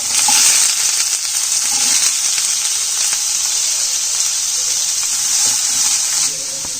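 Onions, crushed ginger and garlic, green chilies and curry leaves sautéing for a Kerala kadala curry, a loud, steady sizzle with a bright hiss that holds throughout and eases slightly at the end.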